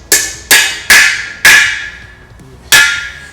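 Five sharp metallic hammer strikes drive a domed freeze plug into a Cadillac 390 engine block, each ringing briefly, with a pause before the last, close and loud with no talk.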